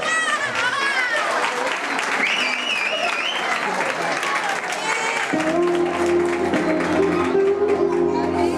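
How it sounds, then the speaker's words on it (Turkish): Guests applaud at a Turkish wedding, steady crowd clapping with cheering voices, then a band's sustained music enters and continues under the clapping. "alkışlayalım"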